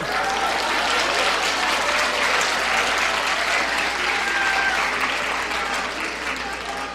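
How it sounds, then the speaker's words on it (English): Sustained applause from a church audience at a preaching event, steady and fairly loud across the whole stretch, dense clapping with no break and no talk over it. "Okay, good place to clap."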